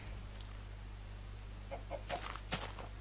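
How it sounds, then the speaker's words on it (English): A chicken clucks in a Minecraft jungle survival game, a few short clucks in the second half over a steady low electrical hum, with no talking. "Chicken, shut up."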